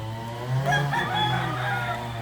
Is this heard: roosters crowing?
yes